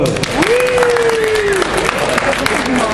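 A live audience applauds a restaurant chef and pastry chef at a cooking demonstration at a food fair, steady loud clapping from a crowd, with a voice speaking over it.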